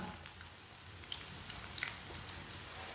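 Onion pakoras frying in oil over a lowered, medium-low flame, a soft continuous bubbling sizzle with scattered small pops and crackles, no talking.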